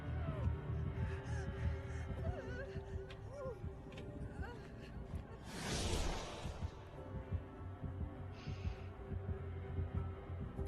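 Dead by Daylight's terror-radius heartbeat pulses low and steady beneath a droning in-game hum, broken midway by a brief whoosh, all fairly quiet.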